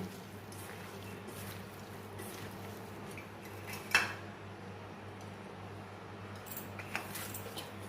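Chilli powder, cumin powder and coriander powder being mixed together in a small bowl for a small-fish chochchori, with faint scraping and a single brief clink near the middle, all quiet and without talk.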